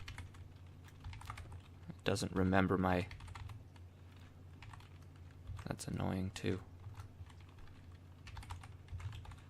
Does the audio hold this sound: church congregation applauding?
no